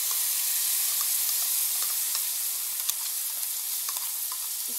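Ground garlic chutney hitting a hot pan taken off the heat, giving a continuous bright sizzle with faint stirring scrapes and small pops throughout, close and steady with no talking.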